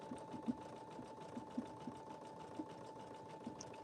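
Sewing machine stitching with Madeira thread, a steady fast mechanical whir with a constant tone and soft periodic knocks, running alone at moderate level.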